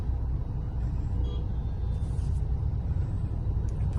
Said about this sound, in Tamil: பயங்கரமான டிராஃபிக்.